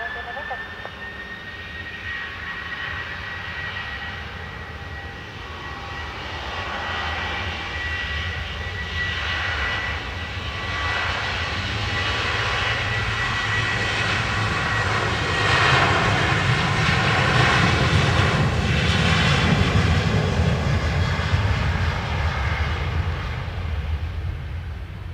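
A Ryanair jet's engines roar on the runway at Dublin Airport, a broad steady rumble with a high whine that builds louder toward the end. It is continuous throughout.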